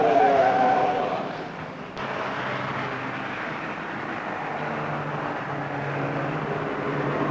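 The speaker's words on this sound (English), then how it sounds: "And there goes the Cortina down Conrod." Cortina race car at the 1963 Armstrong 500 at Bathurst running down Conrod Straight, a steady engine drone with a faint high whine early on, heard from a distance against broad track noise.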